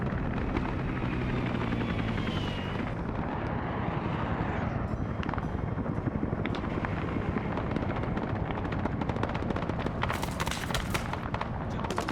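Helicopter rotors roar alongside crackling gunfire in a military video game depicting the Battle of Ia Drang. A dense, loud, continuous wash of engine noise and rapid shots runs throughout with no talking.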